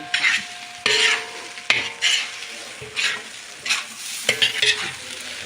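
Fried rice is stirred and scraped in a hot pan, with repeated scraping strokes and a steady sizzle underneath. The sound is close and fairly loud, with no talking.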